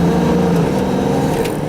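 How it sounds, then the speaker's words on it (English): A 1980 Ford Thunderbird Town Landau with a 5.0 V8 accelerates uphill while its transmission slips between gears, producing a loud, close, steady engine drone over a brief moment with no voices. "if you really get on it in between gears sometimes, and it's hard to get it to slip, but it slipped a little there"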